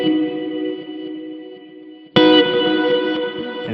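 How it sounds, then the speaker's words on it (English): An electric guitar played through a dual delay into a dual reverse effect on a Quad Cortex rings with sustained, shimmering chords, then a fresh loud strum swells with echoing, reversed-sounding repeats, with no voice. "I like doing the dual delay into the dual reverse,"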